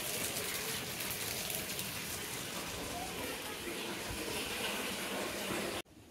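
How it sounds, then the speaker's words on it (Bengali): Water gushes steadily from an open tap left running during rain, a dense continuous splashing wash that fills the scene before cutting off abruptly near the end. "আর দেখো জল পড়ে যাচ্ছে, কত জল পড়ে যাচ্ছে।"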